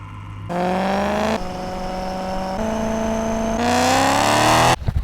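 A BMW M3 drives by itself, its engine climbing in pitch through several gear pulls with short pauses at the shifts, loud and close, ending in a cut-off.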